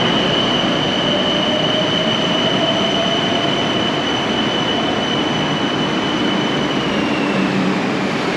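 Steady rumble of a Bangkok BTS Skytrain carriage in motion, with continuous rail noise and a faint high wheel squeal held throughout, loud and close from inside the car, no talking.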